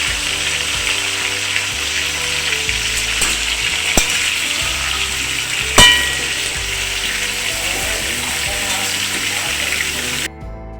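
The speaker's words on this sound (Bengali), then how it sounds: "তেলটা গরম হয়ে গেছে ধোয়া হয়ে যাচ্ছে আলুগুলো দিয়ে" Steady, loud sizzling of potatoes frying in smoking-hot oil, a continuous crackling hiss with a few sharper pops, no voices.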